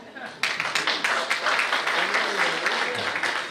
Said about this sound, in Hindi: जो नहीं किया है ताली बजाएं